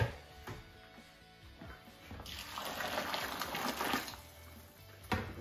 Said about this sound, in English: I'm going to start off with 2 litres of boiling water in this one